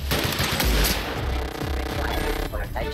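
Steady rapid gunfire in The Outer Worlds sci-fi video game, a dense continuous stream of shots layered over game sound effects and music.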